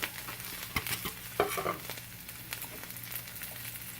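Mushrooms frying in a pan for a steak bourguignon, a soft steady sizzle with a few nearby clicks and knocks as they are stirred, no talking.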